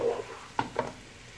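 Bitter gourd aviyal stirred in a pot, two quick wet scraping strokes of a spoon against the vessel, close and brief, with no talking.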